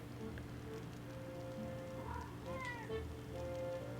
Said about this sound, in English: Sorry, the kitty was chasing a fly and fell down.